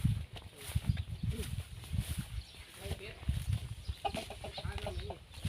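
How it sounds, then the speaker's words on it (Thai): Chickens cluck and a rooster calls on a farm with both chickens and ducks, the bird sounds coming in short bursts under steady talk, with occasional footsteps. "มีทั้งไก่ทั้งเป็ด"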